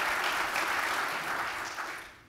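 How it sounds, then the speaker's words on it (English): Live studio audience applause for a Hoover Institution panel, a dense, steady wash of many hands clapping at close range that holds full for about two seconds before tapering off at the end. "the applause you hear"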